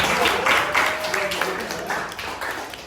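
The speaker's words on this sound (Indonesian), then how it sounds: "terima kasih tepuk tangan untuk kelompok" Classroom applause for a student group, scattered clapping with some irregular taps, mixed with background voices and talk.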